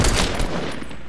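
Gunfire in the video game Fortnite Battle Royale, a sniper rifle quick-scope shot, loud and close with a dense burst filling the short moment, the blast noise lingering throughout.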